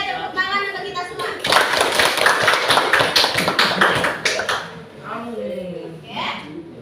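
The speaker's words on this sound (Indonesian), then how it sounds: "Oke, tepuk tangan untuk kita semua." A classroom of students claps hands together in a dense, lively round lasting several seconds, then fades as voices talk.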